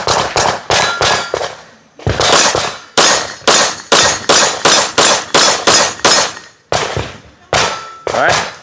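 Rapid loud shots from a Kimber KDS9C Rail 9mm pistol, fired close at a steady quick cadence, about sixteen reports with one brief pause early and a slower last few shots.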